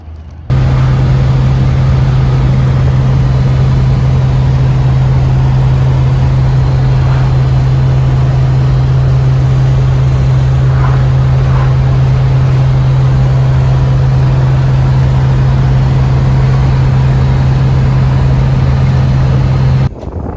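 A barn-find Chevy rolls down the road, giving a loud, constant drone with a strong steady engine hum and road noise that hold unchanged for about twenty seconds.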